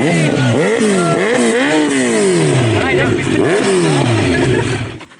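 A Kawasaki Z900 motorcycle engine roars through repeated loud, close revs, each rising and falling in quick succession, before the sound cuts off at the end.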